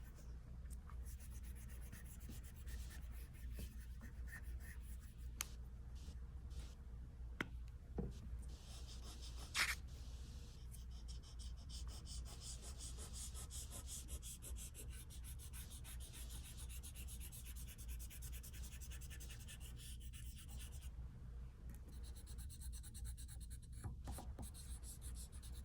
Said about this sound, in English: right now, I'm going to erase the lines that I don't need